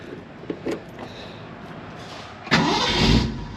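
A 1966 Ford Mustang V8 cranks briefly after a few clicks, then fires and catches with a sudden loud roar that holds into a rough, close revving idle.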